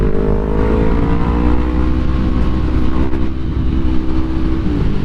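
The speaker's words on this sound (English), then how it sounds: "it seems like I'm revving the heck out of the bike, going really fast" Yamaha MT-03 motorcycle engine revving hard while riding at speed, a loud continuous drone with rising and falling pitch and steady wind rush throughout.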